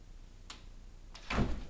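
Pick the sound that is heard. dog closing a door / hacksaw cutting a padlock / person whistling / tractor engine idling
dog closing a door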